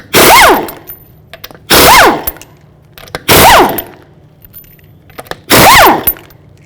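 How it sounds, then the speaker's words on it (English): An impact wrench with a 21mm socket loosening lug nuts on a 2016-21 Hyundai Tucson, four loud rattling bursts, each about half a second long, separated by short pauses. "I'm going to use a 21mm socket to take the lug nuts off"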